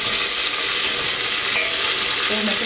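Tomato pieces cooking in a pan with browned onion and curry leaves, giving a steady bright sizzle and fry throughout with stirring scrapes, close and loud, no talking.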